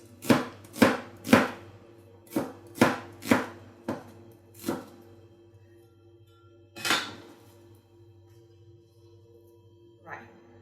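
A knife slices mushrooms on a cutting board for a stir fry with tofu, giving a run of sharp chops in a loose rhythm, then a pause and a few more scattered cuts.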